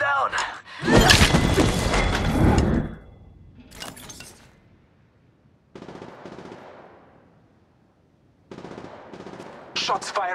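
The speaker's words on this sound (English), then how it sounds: "Shots fired at me." Gunfire in the Apex Legends Mobile video game: a dense loud burst of shots for about two seconds, then shorter scattered bursts and impacts, with quieter stretches between.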